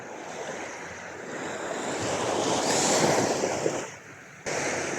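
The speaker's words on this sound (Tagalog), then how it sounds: "Kalmadong ngayon guys yung dagat." Calm sea surf at a river mouth after a typhoon, a steady wash of waves rolling in and breaking nearby with wind noise across the microphone, swelling midway then easing before a brief lull and return.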